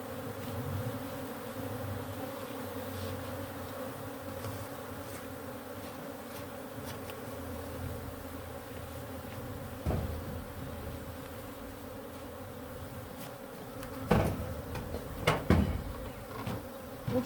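Wild bees buzzing steadily and densely around a garden hive packed full of bees, a continuous close swarm drone with a few sharper knocks and bumps near the end.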